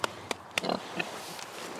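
A sick sow on a farm grunts and huffs in short bursts, a few breathy snorts spaced apart at close range, fairly quiet against a low background hum.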